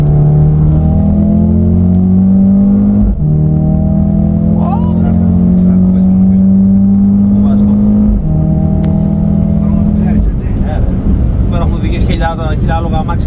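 A 2023 Mercedes A35 AMG sedan revs and accelerates hard, its loud engine drone climbing steadily in pitch, dropping sharply at each gear change, then climbing again as it pulls through the gears.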